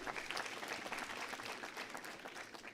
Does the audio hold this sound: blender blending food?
no